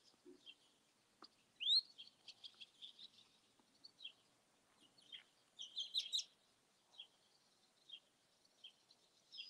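Many small birds chirp and tweet in scattered, overlapping bursts, high and fairly faint, with no talk over them.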